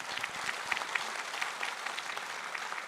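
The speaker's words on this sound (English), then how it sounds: "Please clap for these students." An audience applauds students at a celebration marking 175 years of IIT Roorkee, a steady crowd clapping that lasts throughout with no talk over it.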